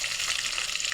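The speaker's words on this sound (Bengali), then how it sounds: "এটা আমি সব একবারে ভেজে নেব।" Bay leaf, dry red chilli and whole cumin fry together in hot oil, a steady dense sizzle that stays loud and even from start to finish with no talk over it.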